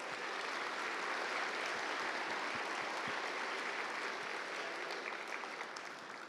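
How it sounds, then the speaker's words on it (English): Steady audience applause at the ReaperCon 2023 miniature painting awards ceremony, honoring silver medalists; dense clapping from a modest crowd, sustained evenly and tapering slightly at the end. "Round of applause for these silver medalists."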